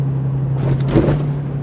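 A 2021 Toyota 4Runner TRD Pro rolls over a large bump in a complex, heard from inside as a steady low engine hum with a brief thud and rattle from the suspension midway.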